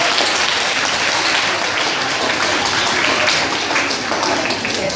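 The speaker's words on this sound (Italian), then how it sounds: "fatevi un bel applauso" Schoolchildren in a classroom applaud continuously, a dense, steady wash of many hands clapping at once, loud and unbroken throughout with no voices standing out.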